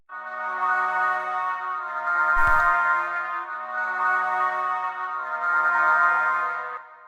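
A short melodic loop from Looperman pitched up three semitones, with a bright, high-pitched synth-like tone, repeating smoothly with a brief percussive hit in the middle.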